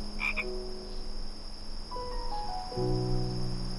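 Frogs croaking in a nighttime garden, short clipped calls over a continuous high cricket drone with soft sustained tones rising toward the end.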